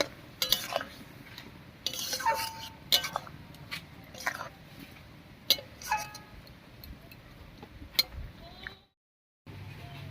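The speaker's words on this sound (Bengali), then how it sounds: "আর ওইদিকে আমটাও আজ সেদ্ধ মতো হয়ে গেছে এবার শাকটা দিবো ভালো করে মিশিয়ে নেব" A spoon stirs jute greens into soft cooked mango in a pot, giving scattered metallic clinks and scrapes against the pot at an irregular pace, close and fairly quiet, with a short silent gap near the end.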